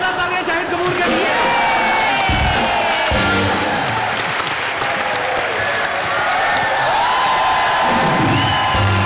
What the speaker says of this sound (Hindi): एक बार जोरदार तालियां शाहिद कपूर के लिए।